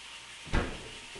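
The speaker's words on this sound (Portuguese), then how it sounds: "Rebenta com a porta da geladeira, César." A child bangs a refrigerator door at home, a single dull thump over a steady background hiss, with no talk.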